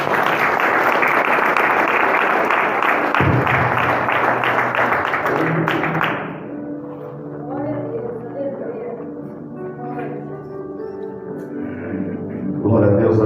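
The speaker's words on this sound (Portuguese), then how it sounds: "As palmas do Senhor" Church congregation applauding during a sermon, a loud dense burst of clapping for about six seconds that then drops away, leaving music and voices in the room with a brief swell near the end.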